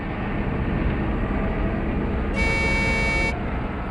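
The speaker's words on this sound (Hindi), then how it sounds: "हॉर्न भी बजा रहा है।" A single sustained truck horn blast sounds for about a second over a steady background rumble of traffic or machinery.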